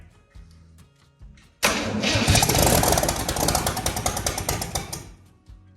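A starter cranks briefly, then a Chevy 230 inline-six engine, unrun for 35 years, catches and roars loudly, settling into a rough, uneven idle, heard up close.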